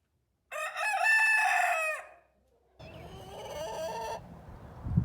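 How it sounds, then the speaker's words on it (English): A farm hen crows loudly and close up in a barn, with one long, strained crow followed after a brief pause by a second raspier call. "here's my crowing hen."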